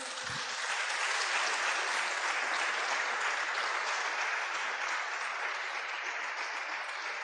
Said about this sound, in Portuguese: Jesus, você pode aplaudir a Ele por isso?